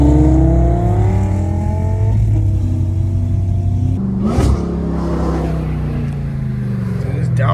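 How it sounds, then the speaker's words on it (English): A Lamborghini Aventador V12 revs hard with sharp downshifts, loud and close, the engine note rising and dropping with a crackling blip midway, while people talk excitedly over it. "That V12 Aventador is nasty."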